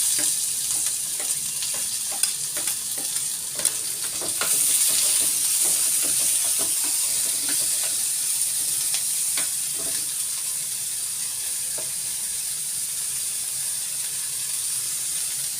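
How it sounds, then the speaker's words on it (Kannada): Onions frying in hot oil make a loud, continuous hiss that swells after a few seconds, with light stirring ticks scattered through it and no voices. "ಇದಕ್ಕೆ ನಾವು ಇಟ್ಕೊಂಡಂತಹ ಈರುಳ್ಳಿಯನ್ನು ಹಾಕ್ಕೊಳ್ತೀವಿ"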